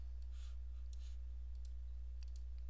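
Faint, scattered computer mouse clicks on a Mac while working in the Pages inspector, a few light taps spaced irregularly over a low, steady electrical hum.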